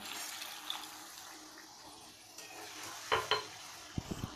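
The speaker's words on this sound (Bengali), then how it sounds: "এইবার এতে একটু পরিমাণ মতন গরম জল দিয়ে দেবো যতটা প্রয়োজন" Hot water goes into a simmering Bengali-style chicken and potato curry, a steady watery sizzle and pour heard close up, with a few clinks of a utensil against the pot near the end.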